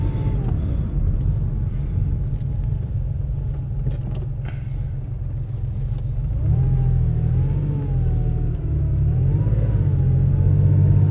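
A Porsche cabriolet's multi-cylinder engine idles with a deep rumble, then revs up and accelerates at about the halfway point. The engine note rises and wavers, close and strong, with no talking over it.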